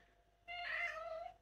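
A hungry cat lets out a single short, clear meow, close by and alone against a quiet background.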